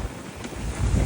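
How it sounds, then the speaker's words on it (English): Waves slap the hull of a Contessa 26 sailboat in rough water off Portland Bill, with an onshore wind roaring across the microphone in a steady, loud wash that swells near the end. "beaten up by the waves on the side with an onshore wind"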